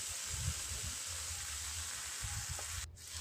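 Rice added to spices frying in a pan for a Bengali matar pulao, giving a loud, steady, close sizzle with a few soft stirring thumps.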